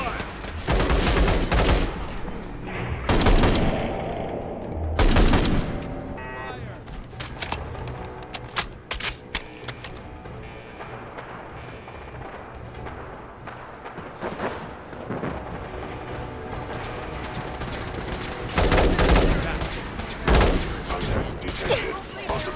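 Enclave soldiers in Fallout 4 open fire in a heavy battle, with dense bursts of automatic gunfire and loud volleys of shots recurring throughout, some voices mixed in under the shooting.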